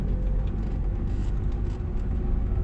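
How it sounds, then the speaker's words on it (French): A learner's car in a driving lesson pulls away from a stop and accelerates, a steady low engine rumble and road noise filling the interior throughout. "On démarre et on accélère."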